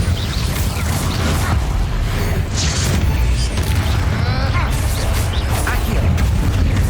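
A Bombarda blasting spell goes off in the Hogwarts Legacy video game, a loud, dense burst of crashing, rumbling debris that stays heavy and continuous for several seconds.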